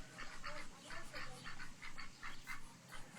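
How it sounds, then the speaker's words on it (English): Ducks quacking in a steady series of short calls, fairly close and moderately loud, with a low rumble in the background. "All the ducks."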